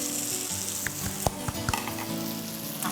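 Onions sizzling in a hot pan while frying Kapampangan pork sisig, a steady hiss of frying with a few crisp pops and stirring clicks, close and fairly quiet, no talking.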